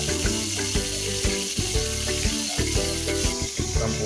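A pot of sardines, jute leaves and papaya at a rolling boil gives off a steady, close bubbling sizzle with rapid clicking pops. No one speaks.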